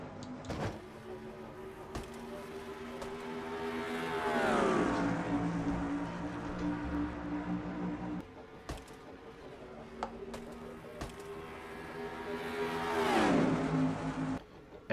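Engines of race cars in a stock car racing video game at the Winston 500, droning steadily, then rising in pitch as cars sweep past on the green-flag restart, twice over with a loud pass each time.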